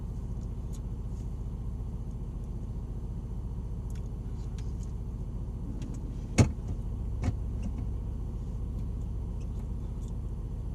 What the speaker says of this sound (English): Wait for this red car and we'll go on behind it.